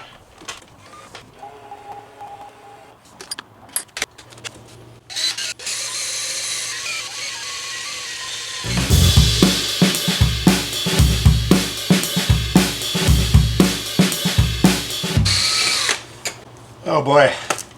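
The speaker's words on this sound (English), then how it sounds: "I'm gonna grab the drill. I'm gonna re-drill this hole here so we can reinstall." Power drill re-boring a hole through thick metal on a steampunk chair during repairs, a near, loud grinding whine in repeated bursts from midway on, with quieter handling noises before it.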